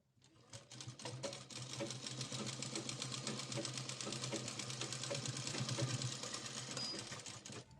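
A sewing machine stitches down a cord for a tassel pendant, a steady, close, rapid mechanical chatter of needle strokes running evenly for several seconds with no talk.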